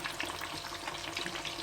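A breaded escalope fries in hot oil with a dense, steady crackling sizzle, close and continuous, with no voices over it.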